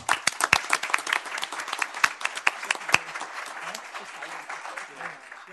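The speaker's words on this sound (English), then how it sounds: "So, Rachel, round of applause for you." Audience members at a city council meeting clap in a moderate, uneven round of applause, with individual sharp claps standing out near the front and the sound thinning toward the end.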